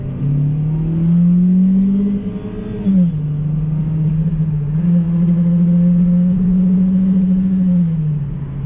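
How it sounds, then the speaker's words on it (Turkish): An Opel Astra J 1.4 turbo with 140 hp and an automatic gearbox accelerates at full throttle, its engine droning loud and steady from inside the cabin as pitch climbs, dips at a gear change, then rises again. "Bak dip gaz yapıyorum."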